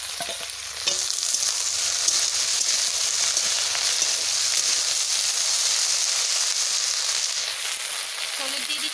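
Okra dropped into hot oil bursts into a loud, dense crackling sizzle that swells after a second and holds steadily close for several seconds before easing, with stirring noise mixed in.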